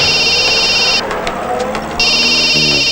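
A telephone rings loudly and close in two electronic bursts separated by a short pause, with a bit of talk in the gap.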